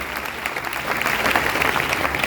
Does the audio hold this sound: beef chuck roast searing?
no